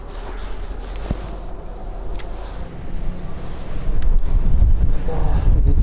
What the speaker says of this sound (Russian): Ветерок хорош.